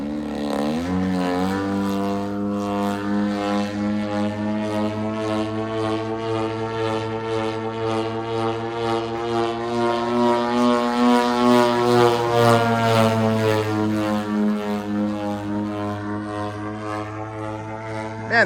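Extreme Flight Slick 580 RC aerobatic plane on its maiden flight, a loud, steady propeller and engine drone with sustained harmonic tone that shifts pitch slightly as it maneuvers, continuous throughout.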